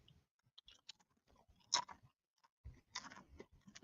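Almond Nut Thins crackers from Blue Diamond crunch in the mouth, with sharp, brittle snaps and bursts of chewing heard close up against quiet gaps.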